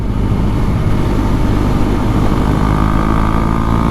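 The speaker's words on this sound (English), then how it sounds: "engine braking's good" Steady, loud engine drone from a Husqvarna Svartpilen 401 single-cylinder motorcycle under engine braking while riding, mixed with constant wind rush, continuous throughout with no talk.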